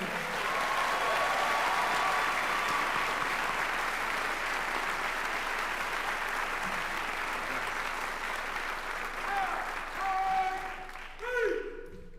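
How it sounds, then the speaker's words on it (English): A large audience applauds through a sheriff's law enforcement academy graduation ceremony, a dense, steady wash of clapping that carries on for the whole stretch and thins near the end, with a few faint voices underneath. "let's give him a round of applause once again."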